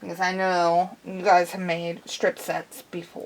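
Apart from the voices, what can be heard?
No distinct noise like a dog, phone or traffic.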